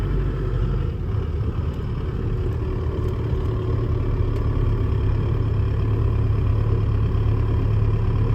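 A 1995 Toyota T100 truck fitted with a 4-53 Detroit diesel engine running at a steady idle, a continuous low rumble with a faint clatter, close by and with no talk.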